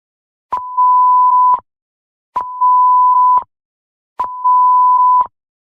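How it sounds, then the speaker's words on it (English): Emergency Alert System test tones broadcast on TV: three identical loud, clean electronic beeps, each lasting about a second, separated by short silences. "The preceding tones were a test of the emergency alert system on WPLD TV."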